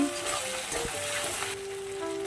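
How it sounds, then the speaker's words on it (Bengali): Chopped onion with bay leaf, dried chilli, cloves and cinnamon fries in oil, giving a short, steady close sizzle with a few light stirring clinks. "পেঁয়াজ ভালো করে ভাজা হয়ে গেছে"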